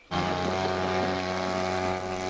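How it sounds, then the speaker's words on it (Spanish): Motorboats ply the flooded streets of Kherson, Ukraine, after the Kakhovka dam breach, their engines making a steady, loud, close droning hum that holds unbroken throughout, with no voices. "El sonido del ir y venir de las lanchas es continuo en las calles de Jersón"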